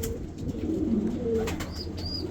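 A Belgian Muelemans racing pigeon, an Indian-bred first-generation bird, gives a soft, low cooing close by over a quiet background with faint chirps.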